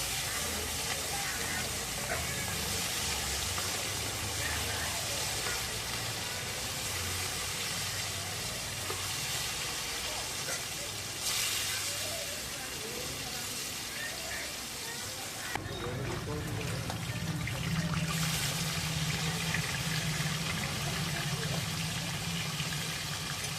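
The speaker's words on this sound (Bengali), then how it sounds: "তেলের মধ্যে মাছগুলো ছেড়ে ভেজে নেব।" Fish pieces fry in hot oil with a constant close sizzling hiss that swells louder partway through, while a voice talks over it at times.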